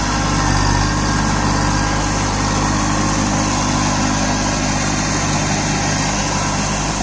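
Kubota Neostar B2441 24 hp mini tractor, fitted with cage wheels and a Shaktiman mini series rotavator, runs through a paddy field. It gives a loud, steady, unbroken engine drone that stays close throughout.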